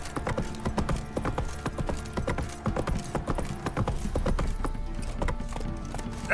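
Roach, Geralt's horse in the video game Witcher 3, trots with a brisk, steady clip-clop of hooves, close and continuous throughout. Faint mechanical and tack sounds sit underneath.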